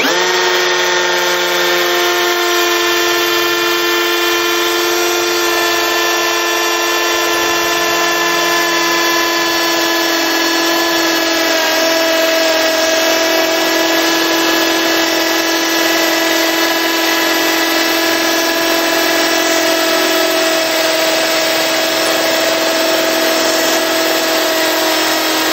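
A Hukan 1065P 10mm electric drill bores through solid brick with a loud, continuous, steady whine that holds unbroken throughout, close up, with no talking.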